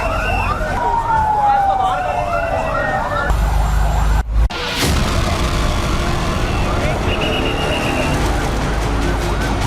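A wailing emergency siren rises and falls loudly up close on a city street after a bomb blast, with traffic rumble and crowd noise around it and a brief cutoff partway through.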